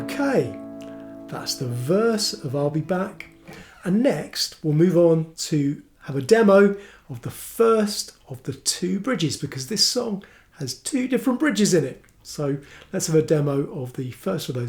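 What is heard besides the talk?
No everyday noises stand out.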